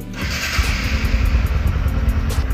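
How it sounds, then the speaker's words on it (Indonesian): A motorcycle engine catches and settles into a steady idle with a rapid low putter, close by and continuous. "tekan tombol starting untuk menghidupkan mesin"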